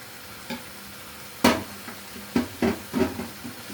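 Menemen being stirred in a frying pan, with several sharp scraping strokes against the pan over a soft background sizzle, the strokes coming in an irregular cluster toward the end.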